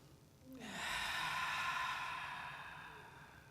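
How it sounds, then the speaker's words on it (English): One long, deep breath in and out by a person, a soft sustained rush of air rising and then slowly fading, close and quiet. "Now take a deep breath again."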